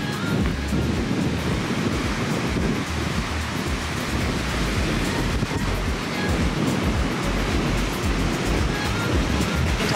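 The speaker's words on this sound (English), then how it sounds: "You get all the waves." Ocean waves crash and wash continuously on a windy beach in Cabarete, Dominican Republic, a loud, dense roar with gusting wind buffeting the microphone throughout and no voices heard.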